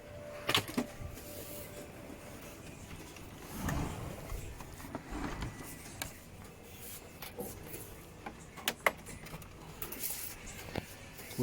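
A Brother laser printer runs a test print after a new fuser is fitted, giving off a faint mechanical whir with scattered clicks and clacks as the paper feeds through, with no voices.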